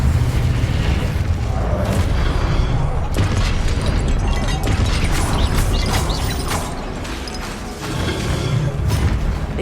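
Confringo blasting spell in Hogwarts Legacy, a continuous loud barrage of booming explosions and clattering impacts with mechanical crunches, dense throughout.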